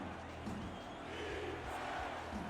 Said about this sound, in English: Crowd picks up a chant of defense.